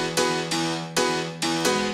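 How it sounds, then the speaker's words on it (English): Four stacked piano layers for a retro flip of a song strike big, full chords together, three sustained hits decaying between attacks, loud and close with no voices. "And with all the four pianos together, because there's four layers of piano, they sound like this."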